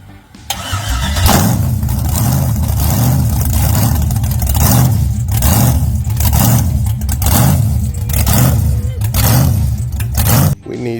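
Engine of a budget drag car idling right after its first fire, loud and close, with a rough, lumpy, pulsing idle that holds steady for several seconds.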